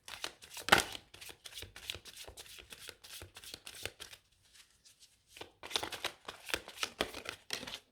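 Tarot cards are shuffled by hand in quick, papery riffles and slaps, close and alone, with a brief lull before the shuffling resumes.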